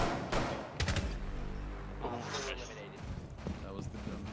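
Gunfire rattles in Rainbow Six Siege: sharp bursts and thuds, some in rapid clusters, sounding at moderate loudness while a player talks over much of it.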